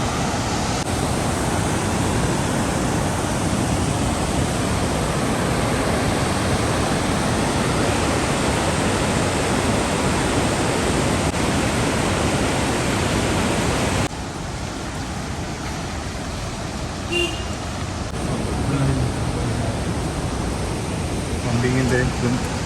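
Water released from the Perumthenaruvi power station rushes through a concrete canal with a loud, constant roar. The roar dips slightly partway through, then continues as a steady torrent.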